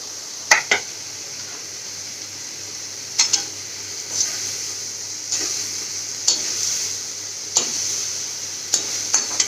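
Bottle gourd pieces stirred in a hot pan while cooking a fish-head curry, giving a steady close sizzle with several sharp scraping knocks of the spoon spaced through it, no voices.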